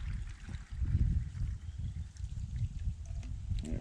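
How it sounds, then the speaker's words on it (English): Water glugs and trickles through a funnel from a big jug into smaller bottles at a campsite, a close, uneven pouring with soft gurgling pulses. "Using this funnel makes filling up these smaller water bottles a lot easier"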